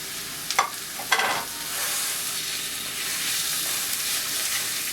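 Hamburger meat, a pound added to a hot pan after garlic, browns with a steady broadband sizzle, preceded by a couple of brief scraping stir clatters, close and moderately loud with no talking.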